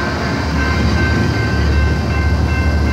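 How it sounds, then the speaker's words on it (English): A train rolls past on the rails close by, a loud, steady rumble with a continuous metallic hiss and faint squealing tones, holding level for the whole stretch with no voices. "This was the train we saw."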